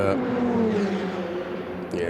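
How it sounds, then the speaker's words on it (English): A Ferrari Challenge race car at Mugello rolling in, its engine and whirring drivetrain passing with a sliding pitch under a commentator's voice. "that was the 377 car driving in"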